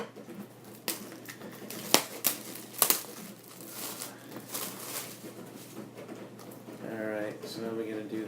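A football's seam is cut with a blade at close range, giving crinkly scraping and crunching with several sharp snaps and cracks, then a steadier rustling, tearing texture near the end.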